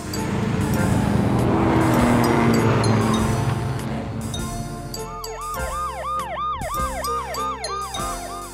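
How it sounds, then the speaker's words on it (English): A police car siren wails in repeated rising and falling sweeps, loud and close, following a louder engine and traffic rumble at the start. "Police car."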